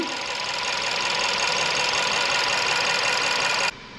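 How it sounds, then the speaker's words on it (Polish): A car engine with a rough-running, power-loss fault idles loudly and evenly, a steady mechanical drone that cuts off abruptly near the end. "Równiutko pracuje silnik"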